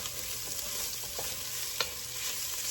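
Italian seasoning and other ingredients sauté in a pot for a one-pot pasta, giving a soft, steady sizzle with occasional stirring scrapes, fairly faint and without talk.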